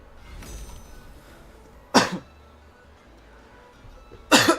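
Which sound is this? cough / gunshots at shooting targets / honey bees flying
cough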